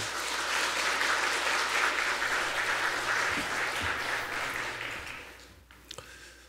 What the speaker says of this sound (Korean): 박수로 우리 목사님 환영하겠습니다